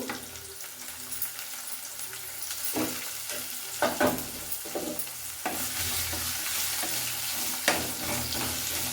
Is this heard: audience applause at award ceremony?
no